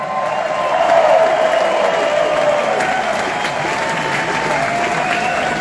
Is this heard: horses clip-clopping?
no